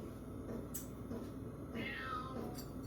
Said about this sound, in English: you're probably going to hear both of these wild cats